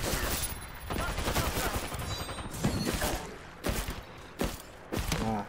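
Hellstar energy weapon tap-fired in a video game, heard as repeated short bursts of gunfire separated by brief gaps, loud and close among other battle noise.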